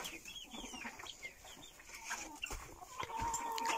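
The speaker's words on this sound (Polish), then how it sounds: "Tutaj kurczaczki jeszcze sobie jedzą." Hens released from their coop cluck softly and intermittently while eating, several birds close by at low volume against faint farmyard background noise.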